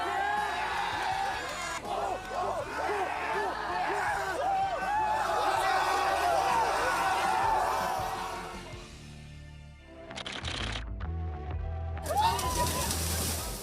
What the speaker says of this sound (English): They're doing their exercises in the water, the wet and sandy